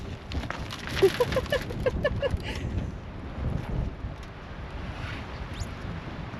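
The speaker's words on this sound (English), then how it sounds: "Oh Jesus, that wind is strong. That just blew me over." Strong gusting wind buffets the microphone outdoors in a rust-filled yard of old cars, a loud roaring rush that swells early and stays steady, with brief speech near the start.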